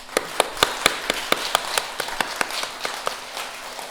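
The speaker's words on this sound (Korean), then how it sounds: "하나님 앞에 감사의 박수 한번 합시다" A church congregation claps together during a Sunday sermon, giving a burst of sharp, irregular handclaps that ring out clearly in the hall and fade within a few seconds.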